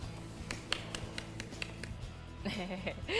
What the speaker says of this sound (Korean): 이렇게 말이 끝나자마자부터 꽤 주변에서 박수 소리가 나오네요